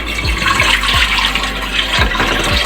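Water pours from glasses into a pot of chicken for yakhni, a loud close splashing gush with a few distinct sloshes as each glassful lands.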